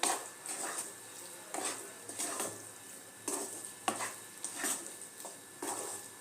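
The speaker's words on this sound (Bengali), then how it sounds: "2 মিনিট ডালটাকে একটুখানি নাড়াচাড়া করে" Lentil dal with spices is stirred in a pan over a medium flame, a spoon scraping the metal in short, repeated strokes at a fairly steady pace, close up but soft, with no voices.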